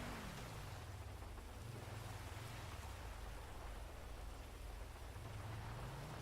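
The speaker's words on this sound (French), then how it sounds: "maintenant il commence à pleuvoir" Steady rain hisses without a break in a police video game (GTA V with the LSPDFR mod), a quiet, even wash of rainfall with no voices.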